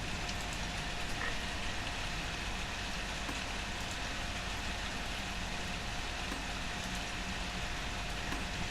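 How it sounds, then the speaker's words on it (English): Heavy rain pours steadily outside an open window, a dense, continuous hiss and patter that holds at an even level throughout, with no voices. "it's raining very heavily outside my window"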